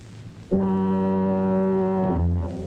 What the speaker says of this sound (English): the only sound is the endless bleat of the foghorns, warning ships of a rocky shore